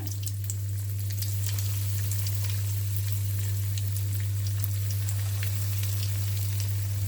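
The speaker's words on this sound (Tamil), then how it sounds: "இப்போ ரெடி பண்ணி வச்சுருக்க இந்த கோன் வந்து இதில் போடலாம்." Bread snack cones fry in hot oil with a steady, rain-like bubbling hiss, even and unbroken throughout, close by with a constant low hum beneath and no talking.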